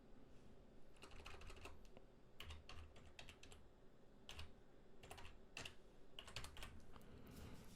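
Rapid, light clicking of keys on a computer keyboard as a Wi-Fi password is entered, in quick irregular bursts over several seconds, quiet and close with a faint background hum.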